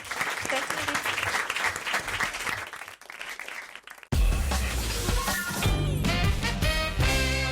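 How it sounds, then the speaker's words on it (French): A studio audience on a French television quiz show claps in a dense burst for about three seconds, blended with some voices. A loud musical jingle with bright tones then takes over. "On vous applaudit, Eric."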